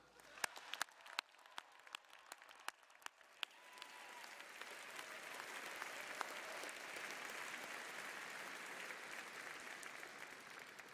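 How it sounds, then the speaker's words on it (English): A commencement ceremony crowd claps for the faculty. Sparse, loud individual claps in the first few seconds swell into sustained, dense applause that holds steady to the end. "Please join me in a round of applause for our faculty."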